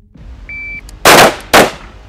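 A shot timer beeps once during military live-fire training in Poland, then two loud, sharp gunshots ring out close by in quick succession, about half a second apart.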